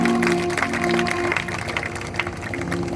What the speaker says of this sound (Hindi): ताली बजाओ बाबा